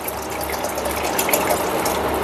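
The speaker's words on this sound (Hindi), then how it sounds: "तो मैं इसमें आपको गोश्त पकने और चावल पकने तक का पानी डाल के दिखाऊंगी" About 450 ml of water pours steadily into a pot of mutton for yakhni biryani, a continuous close gushing splash with no talking.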